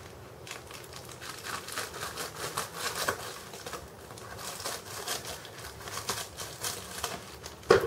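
Scissors snip and slice open a crinkly plastic packaging bag, a run of close, uneven crunching and rustling cuts over several seconds with no talk.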